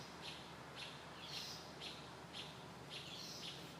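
Robins calling in a deep, shady forest near Beebe Hall: a faint, regular series of short chirps about twice a second over a steady background hiss.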